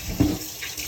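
Tap water runs briefly into a kitchen sink while goat meat is rinsed, a short, fairly loud gush with no talking.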